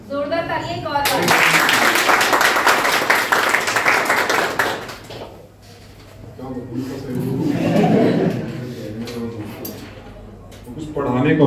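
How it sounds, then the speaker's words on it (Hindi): Audience applause at an academic achievement celebration, with a brief voice at the start, then several seconds of dense crowd clapping that fades. Talk and murmuring follow, and the clapping swells again softly later. "जोरदार तालियां एक और बार"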